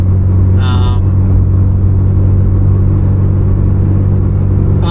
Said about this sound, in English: Road noise. It'd be nice if it was a little bit quieter.